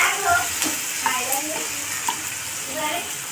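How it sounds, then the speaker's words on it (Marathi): Spices tempering in hot oil for dal, a loud steady sizzle and crackle close by with small pops and a stirring scrape, no talking. "तुम्ही वरणाला फोडणी देता इकडं"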